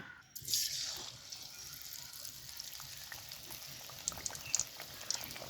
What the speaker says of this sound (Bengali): এবার গরম তেলে বেগুনিটা তেলের মধ্যে দিয়ে দিব।